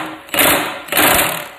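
An impact wrench on a two-stroke engine removes a big nut, working in two loud, close bursts of steady buzzing hammering with a short pause between them.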